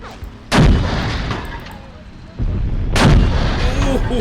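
Artillery and gunfire in a WW2 desert battle video game: two heavy, booming blasts about two and a half seconds apart, each with a long rumbling tail over a low background of battle noise.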